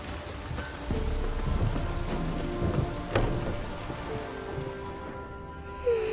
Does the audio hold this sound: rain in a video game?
yes